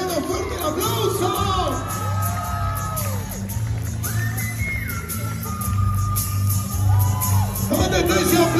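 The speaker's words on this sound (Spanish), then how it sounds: "¡Fuerte el aplauso!" A crowd at a quinceañera celebration cheers and whoops with shouts and whistles over background music and chatter, lively and sustained.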